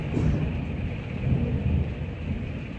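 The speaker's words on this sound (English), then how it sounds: "You hear that thunder?" Low, rolling rumble of thunder under steady rain in Yellowstone, continuous for a few seconds with slight swells in loudness.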